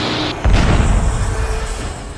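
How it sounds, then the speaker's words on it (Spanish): Explosion as a Boeing 737 strikes a turboprop plane on a runway, a loud heavy boom hitting after a rushing roar, then a sustained rumbling blast that slowly fades. "El impacto produce una explosión y el avión pequeño estalla en llamas"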